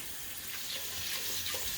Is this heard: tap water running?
yes